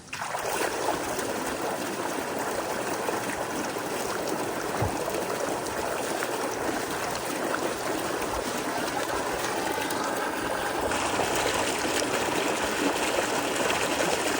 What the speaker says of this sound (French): je voulais avoir ma petite cascade